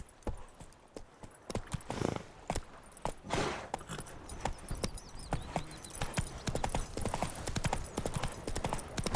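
Roach the horse from The Witcher video game gallops in a dense, uneven clatter of hoofbeats that runs nearly throughout, with a brief whinny-like burst early on, fairly close and loud.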